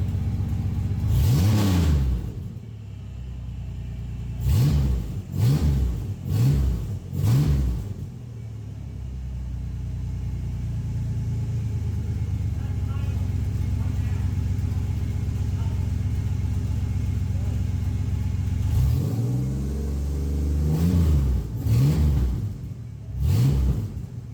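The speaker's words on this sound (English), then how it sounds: "first time hearing the car run" A project drift car's engine idles with a steady low rumble, broken by several sharp revs in bursts near the start and again toward the end, close by.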